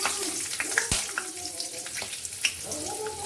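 Nigella seeds and green chillies hit hot oil, giving a steady soft sizzle with small crackles and pops, close and moderately quiet.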